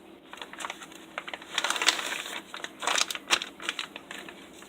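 Scissors snip and plastic packaging crinkles as a drop spindle package is cut open and unwrapped, in irregular close bursts of rustling and crackling with no talk.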